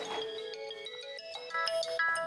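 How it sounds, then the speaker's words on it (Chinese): An office telephone rings with a bright, electronic melodic tone of tonal notes shifting in pitch, moderately loud and close, with no voices over it. "要不要先接电话？"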